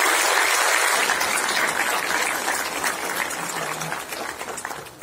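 Thunderous applause from an audience welcoming the Prime Minister at a World Water Day event, a dense, loud wash of clapping that gradually thins toward the end.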